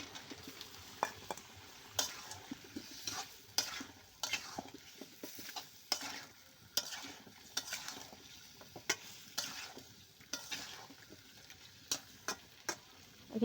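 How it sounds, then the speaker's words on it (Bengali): Potatoes stirred into desi chicken frying in a pan for a light curry, with repeated scraping spatula strokes over a soft, continuous sizzle. "এই মুরগির মাংসের সাথে আমি আলুগুলো দিয়ে দেবো একসাথে।"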